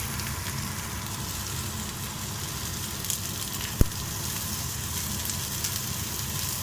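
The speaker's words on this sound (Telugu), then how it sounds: "ఆయిల్లో ఫ్రై చేసుకోవాలి." Garlic, black pepper and cumin fry in hot oil for pappu chaaru, giving a steady, close sizzle with a dense crackling hiss throughout. One sharp pop breaks through partway, and no one speaks.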